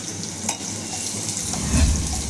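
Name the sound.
onion being stir-fried in a pan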